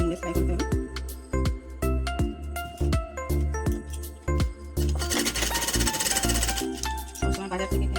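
A sewing machine stitches children's half pants in loud, rapid rhythmic bursts of needle strokes with short pauses between runs, then one longer continuous run near the end.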